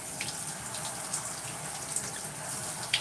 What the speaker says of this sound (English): So I'm just rinsing the conditioner.